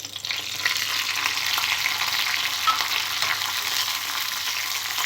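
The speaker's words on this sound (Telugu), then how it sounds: "ఆయిల్ వేడైన తర్వాత ఎండుమిర్చిని ఫ్రై చేసుకోవాలి." Dried red chillies fry in hot oil in a pan, giving a steady, close crackling sizzle that runs unbroken for several seconds without any talking.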